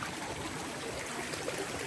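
A small jungle creek flows steadily nearby, a continuous watery trickle and babble with no speech over it.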